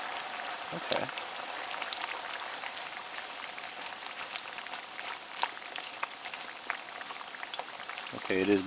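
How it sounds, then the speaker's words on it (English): Hot oil bubbles and sizzles around fresh-cut fries in a pan on a titanium folding camp stove inside a hot tent in a blizzard, a steady close crackle throughout with a brief clatter at the end. "Okay, it is bubbling, good."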